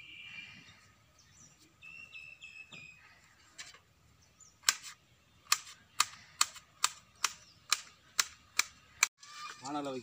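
Knife chopping ridge gourd on a board in a village kitchen, a quick run of about ten sharp, evenly spaced chops close by, after quieter soft sounds and faint chirps.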